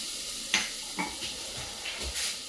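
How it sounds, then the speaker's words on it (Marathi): Soft sizzling of butter melting in a pan, with a few faint clinks and stirring sounds over a low steady hiss. "त्याच्यात आपण आता बटर चांगलं गरम करून घ्यायचं आहे आपल्याला."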